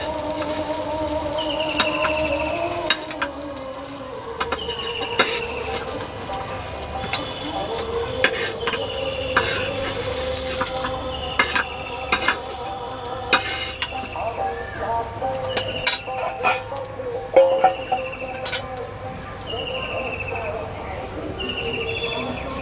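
Banana flower fritters (mochar bora) fry in a pan with a steady sizzle, broken by repeated sharp scraping and clinking stirs, while birds chirp and tweet faintly in the background.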